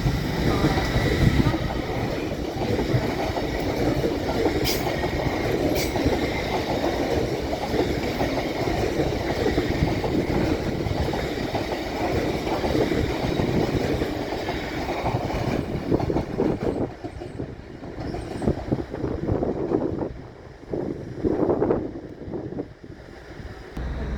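A train passing through Doncaster station, a long loud continuous rumble with wind-like roar that holds steady before thinning out and fading near the end.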